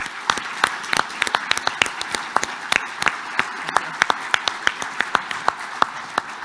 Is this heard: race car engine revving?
no